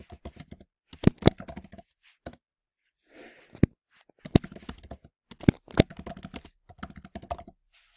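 Bursts of typing on a computer keyboard with crisp key clicks in quick clusters separated by short pauses, closing with a firmer press of the enter key while entering action cards in a note-taking program, close and alone.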